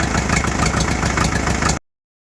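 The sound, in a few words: 1951 Farmall M tractor engine idling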